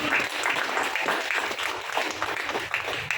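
Seminar crowd in Vasco da Gama, Goa bursts into loud, sustained clapping, many hands patting densely and evenly with faint voices mixed underneath.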